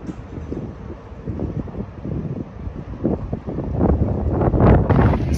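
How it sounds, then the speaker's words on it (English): Gusty wind in New Zealand buffets the microphone with low rumbling blasts that swell and grow stronger toward the end, with no voices present. "This place has earned its name because it always seems to be windy."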